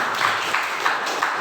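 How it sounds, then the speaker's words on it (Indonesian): Applause from a school audience at a high school student council candidate debate, a brief steady patter of many hands clapping, fairly loud and close. "Berikan tepuk tangan sekali lagi untuk paslon nomor"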